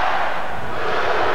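Crowd roar at a 1988 SEC Tournament semifinal basketball game between Kentucky and LSU, a steady, dense wash of cheering that holds at full volume from start to finish with no pauses.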